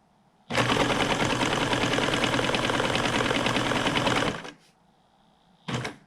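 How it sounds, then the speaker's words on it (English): Sewing machine stitching fabric for a 1996 Ford F-350 truck seat: a loud, fast, continuous mechanical chatter for about four seconds, then it stops, followed by a brief second burst. "that's what pulls the fabric through the sewing machine as"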